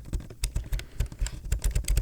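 Close, crisp typing on a computer keyboard, a fast irregular stream of clacking keystrokes with occasional heavier thocks, alone and without talk.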